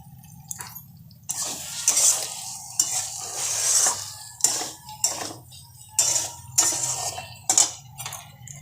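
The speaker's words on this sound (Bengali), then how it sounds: "আর একটা ছোটো থেকে পেঁয়াজ সব ঢেলে দিলাম এবারে কষাই কষি কষি তেল বেরিয়ে যাবে" Onions with ginger, garlic and cumin sautéing in oil in a pan for a prawn and potato curry, a soft sizzle broken by repeated bursts of spoon stirring and scraping against the pan.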